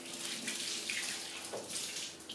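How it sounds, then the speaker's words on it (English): Tap water runs steadily into a kitchen sink as hands are rinsed, a continuous soft hiss with faint splashing, close and moderately quiet throughout. "let me rinse off my hands real quick"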